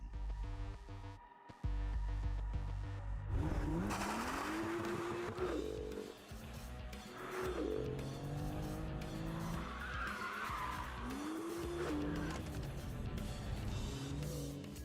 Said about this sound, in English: The BMW M2.